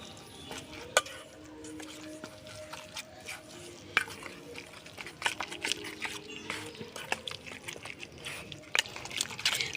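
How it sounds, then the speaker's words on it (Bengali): A spoon works milk powder into ground radish in a bowl, giving soft, uneven scraping and light clinks with a few sharper taps, fairly close and low in level. "সুন্দর করে চামচ দিয়ে মিশিয়ে নেব।"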